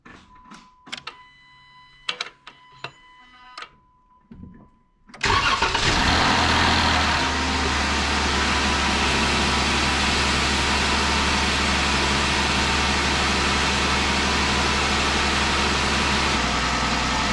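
A 2015 Jeep Wrangler fitted with a custom 3-inch intake is cold started: a few faint clicks and chimes first, then the engine catches with a loud burst and settles into a steady, close idle.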